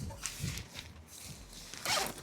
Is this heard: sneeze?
no